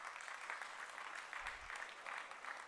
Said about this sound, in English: Can we have a bigger round of applause for that?